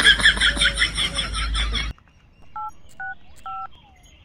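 Three short touch-tone beeps from an iPhone keypad being dialed sound clearly and alone in a quiet room, each a separate tone, following a louder burst of unrelated noisy sound.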